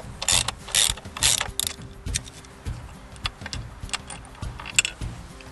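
Metal bolt being unscrewed from a front-mounted bike rack on a camper travel trailer, heard as bursts of mechanical clicking and ratcheting, close and fairly loud, repeating in short uneven strokes.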